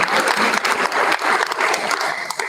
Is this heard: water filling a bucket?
no